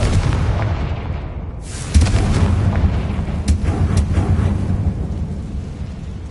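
A Confringo blasting spell in the Hogwarts Legacy video game erupts in a sudden deep boom over a rumbling backdrop, followed by a few sharper cracks and a rolling, thunder-like tail.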